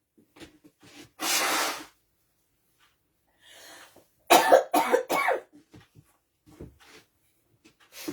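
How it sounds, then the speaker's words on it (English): Several forceful nose blows into a tissue, a long honk followed by a cluster of short sharp bursts, with quiet sniffles between. "gotta blow my nose again"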